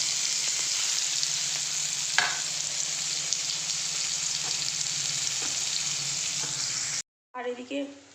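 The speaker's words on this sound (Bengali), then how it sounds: "আর এদিকে একটু ডিম ভেজে নিচ্ছি, ভাজবো।" Eggs frying in a pan make a steady crackling sizzle for about seven seconds, with a few faint clicks; the sound then cuts off abruptly and a voice speaks briefly.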